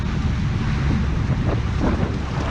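Swirling wind buffets the microphone at an outdoor fire, a steady loud low rumble with gusty swells and no voices, continuous throughout.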